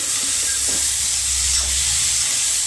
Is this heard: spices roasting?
yes